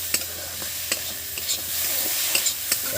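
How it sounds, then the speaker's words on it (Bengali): Chopped tomatoes tossed into a hot frying pan for lentil dal, a loud close hiss of frying with repeated scraping stirs against the pan, no talk. "বন্ধুরা এবার এই কুচি কুচি টমেটো দিয়ে দিচ্ছি দেখুন"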